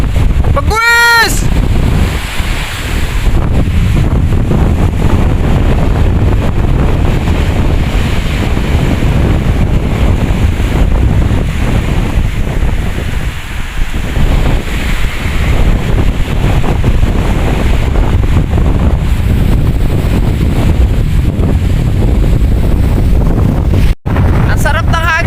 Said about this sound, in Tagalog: Sarap ng hangin, napakalakas ng hangin, napakalakas din ang dagat.